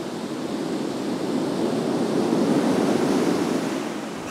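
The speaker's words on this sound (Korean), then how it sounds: "이어지는 파도의 연주 소리." Ocean waves break on a quiet winter beach in Portugal, a steady washing roar of surf that swells gently toward the middle and stays close and full throughout, with no voices.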